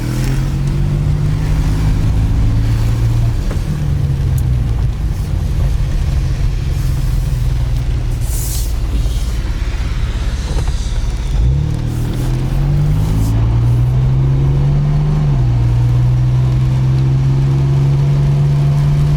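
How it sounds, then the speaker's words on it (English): A rare car, forgotten and parked for years, does a burnout: a loud, close engine roars and revs continuously, its pitch dipping and climbing again, with no talk. "Think we'll do a burnout?"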